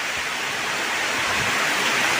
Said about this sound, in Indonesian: Yang tadinya cerah jadi hujan deras kayak gini Om. Hujan angin.